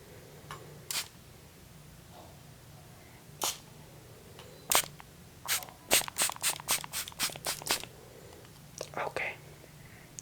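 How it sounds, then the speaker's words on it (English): Spray bottle spraying during an ASMR haircut roleplay: close, crisp hissing spritzes, a few spaced single sprays, then a quick rhythmic run of about ten bursts and a final pair, over a quiet room hum. "I know you've always loved the spray sounds"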